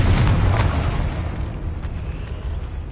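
Confringo spell explosion in the video game Hogwarts Legacy, a loud deep boom with a rumbling burst that fades slowly over a few seconds.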